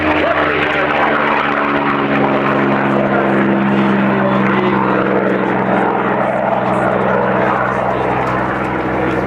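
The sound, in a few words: racing propeller airplane taking off at Reno air show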